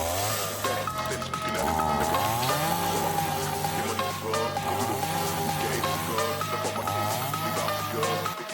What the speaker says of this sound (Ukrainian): Давайте подивимось на бензопилу Techman CSG 1840 у дії.